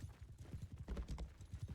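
Horse hooves clop in a medieval battle video game, a quick irregular run of thudding beats close by amid busy mixed game noise.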